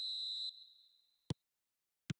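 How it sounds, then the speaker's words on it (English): A referee's whistle starts a match in the eFootball video game, giving one clear, shrill blast that fades out, followed by two sharp clicks. "There's the whistle, and here we go"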